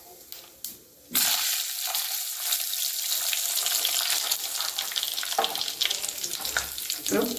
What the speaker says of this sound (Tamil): கடுகு பொரியும் போது